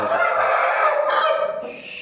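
Loud, continuous chirping and peeping of many young birds packed close together, a dense, shrill chorus with no pauses.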